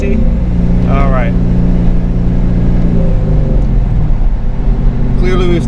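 A 20-year-old Corvette launching hard from a stop with tire spin, engine roaring loud and close with rising revs across the run, while people talk over it inside the car.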